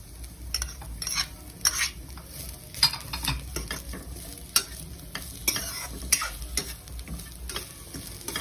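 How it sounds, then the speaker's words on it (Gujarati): Vegetables and capsicum sauté in a hot pan for crispy veg spring rolls. A soft sizzle runs throughout while a spatula stirs and scrapes, with repeated sharp knocks against the pan, close and without voices. "મિક્સ કરી દઈશું સરસ રીતે અને સાંતળીશું। કેપ્સિકમ મરચાં એડ કરી દઈશું,"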